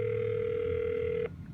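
A desk phone system's line tone sounds while dialing out: a steady, clear electronic tone holds for just over a second, then cuts off abruptly, leaving quiet room hiss.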